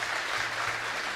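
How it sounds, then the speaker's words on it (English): A brief, full burst of audience applause for visiting guests at a college cultural evening, with dense, even clapping filling the moment. "Can we have a big round of applause for all of them?"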